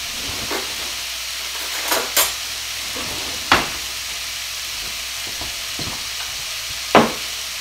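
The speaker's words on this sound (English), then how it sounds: "while my sausage is over here cooking" Sausage cooking in a pan makes a soft steady sizzle, broken by several sharp clinks and scrapes of utensils against the pan.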